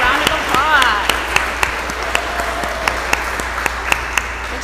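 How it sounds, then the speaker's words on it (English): An audience claps for an absent student award winner at a school sports awards ceremony, a sustained wash of applause with sharp individual claps standing out, while a voice talks briefly over the start. "let's give her a round of applause"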